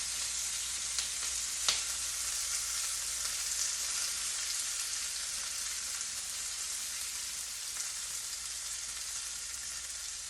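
Korean seafood pancake (haemul pajeon) batter with chicken and shrimp frying in a pan, a bright constant hissing sizzle held close and even, with one brief knock near the start and no voices.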